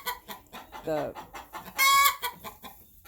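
Young chickens cluck and squawk up close in two short bursts, one lower and one higher and shriller, with a person talking softly between them.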